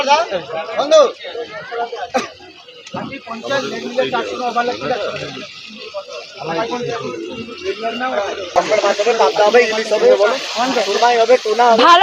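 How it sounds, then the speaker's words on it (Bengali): Chital fish belly sizzles and hisses as it fries in oil at a beach food stall in New Digha, a continuous crackle heard beneath close conversation and background crowd chatter. "আমাকে ছোট একটা চিতল মাছের পেটি ভেজে দিন"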